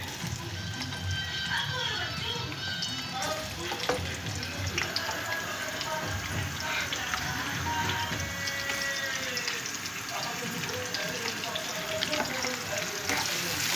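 Onions sizzling and frying in hot oil in a pan for daal palak in a home kitchen, a steady crackling hiss running throughout at close range with no talk.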